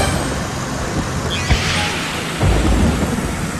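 Thunder from storm clouds in the video game Disney's Planes: two deep rumbling cracks about a second apart, loud and close over a steady stormy wash, with no talking.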